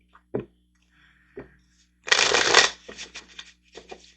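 Tarot cards are shuffled in a crisp, loud riffling burst lasting about half a second, followed by a few softer flicks and taps, with faint isolated card snaps beforehand.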